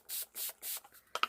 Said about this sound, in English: Grab my water spray and give that a spritz to spread it out a little bit.